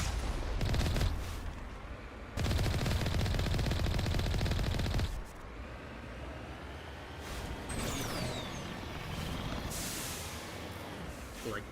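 Cannon shots fire in the Mass Effect game, heavy bursts of gunfire that come in loud dense stretches and then drop back into softer combat noise.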